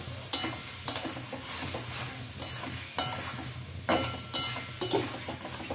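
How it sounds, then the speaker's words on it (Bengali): Kohlrabi and potato with spices are sautéed in a pan under a steady sizzle, with a spatula scraping and stirring in repeated strokes every second or so, close and moderately loud. "এবারে ভালো করে কষিয়ে নিই"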